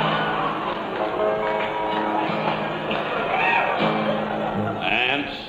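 A voice imitating a cracked record skipping, repeating the same short sung fragment over and over in a stuck, looping rhythm, close and clear.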